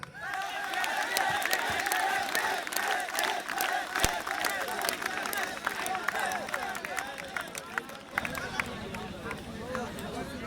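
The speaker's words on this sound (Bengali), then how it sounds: "আমরা সবাই রেশমি নাম ধরে তালি দিতে দিতে তাকে ডাকবো।" A college picnic crowd claps in steady rhythmic unison while calling out a name together, loud and close, with cheering voices throughout and a continuing roar of the gathering.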